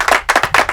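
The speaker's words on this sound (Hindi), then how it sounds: "तालियां बजाओ" A classroom of students clapping their hands in a few quick, loud bursts of sharp claps, close by with no talk over it.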